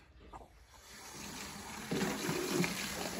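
Water gushes from a tap into a small watering can for feeding blueberries, a steady rushing stream that grows fuller and louder partway through as the can fills.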